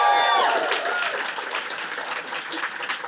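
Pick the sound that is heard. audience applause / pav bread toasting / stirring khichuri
audience applause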